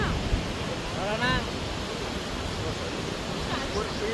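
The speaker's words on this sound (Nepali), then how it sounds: "अब यतातिर झरना पुगेको छ तल" Waterfall beside the Tamakoshi river near Sigati in Dolakha, a broad steady rush of falling water heard up close with faint voices over it.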